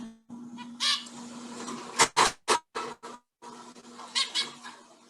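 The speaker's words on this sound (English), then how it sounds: "This is the zebra finch." A zebra finch call played back from a recording, heard as several short, sharp chirps in a quick irregular run, faint and a little distant, over a steady low hum.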